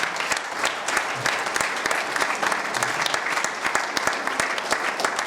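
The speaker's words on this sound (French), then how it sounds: "On acclame maintenant pour Jésus." Sustained applause fills a French church service in praise of Jesus, dense steady clapping from a congregation throughout, loud and close with no pauses.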